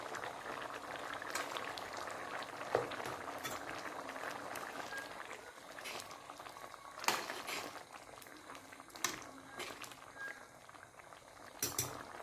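Dal (lentils) boiling in a pot in a home kitchen, a soft continuous bubbling with scattered sharper pops and splutters, fairly quiet and without speech.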